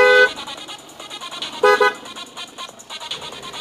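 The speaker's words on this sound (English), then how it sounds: "Made you feel good to toot the horn like you're driving?" A Dodge Magnum car horn gives two short toots, the first at the very start and the second about a second and a half later, both loud and close with quiet between.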